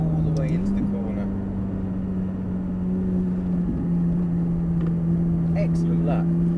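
A McLaren 570S sports car on the Thruxton track holds a steady, close engine drone that shifts pitch slightly as it eases through a cone-marked corner, with a voice speaking over it.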